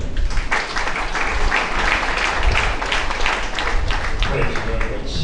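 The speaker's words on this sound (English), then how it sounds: "Please can we applaud him?" An audience at an international academic conference breaks into sustained applause, dense clapping throughout at a fairly loud level with some voices mixed in.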